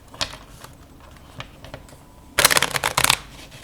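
Anglo playing cards being fanned and riffled, faint scattered clicks at first, then a dense, loud burst of rapid card flutters in two close bursts near the end.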